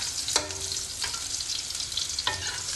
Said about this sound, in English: Add in garlic, fry for a while. Add in the dry shrimp.